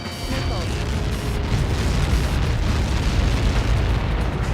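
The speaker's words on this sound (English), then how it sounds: "How many got caught in that explosion?" Missile impact blast in the Ace Combat 7 flight game, a sustained loud rumbling roar of explosion that fills the whole stretch with dense low booming noise and no break.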